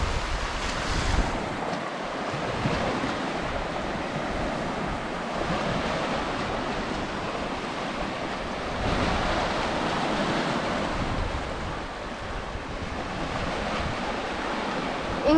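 Waves wash over rocks along the shore as the tide comes in, a steady, continuous surf roar with gusting wind buffeting the microphone throughout.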